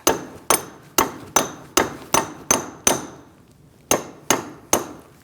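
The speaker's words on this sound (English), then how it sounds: "we're going to use a punch to get it past that rust" Metal hammer strikes on a punch against a rusted axle ring out sharply, about eleven evenly spaced blows with a brief pause midway, each leaving a short metallic decay. From a 2002-2006 Toyota Camry brake dust shield job.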